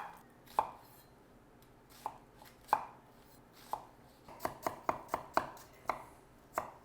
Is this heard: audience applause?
no